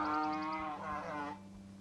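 A mule vocalizes up close with a loud, harmonic, moaning call that wavers and breaks into a second pulse before trailing off, heard alone without speech.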